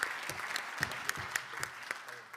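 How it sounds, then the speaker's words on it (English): Warm applause from a disability conference audience, steady clapping from a moderate-sized crowd with a few sharper individual claps standing out near the front. "give a warm applause to the first cohort of speakers"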